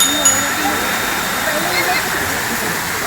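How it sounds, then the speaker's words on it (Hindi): Water pours steadily into a water garden at a zoo, a constant close rush with no break, while a person talks over it. "झरना की व्यवस्था"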